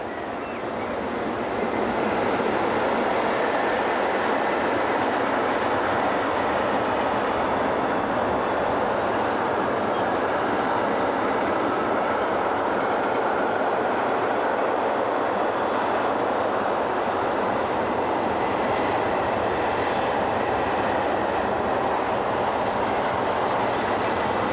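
A train passes on a European railway line near Boppard, a steady loud rumble and rolling rush that holds for over twenty seconds with no talk.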